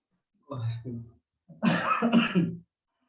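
Two bursts of harsh coughing, the first a pair of short coughs, then a longer rough, throaty fit close by, with silence around them.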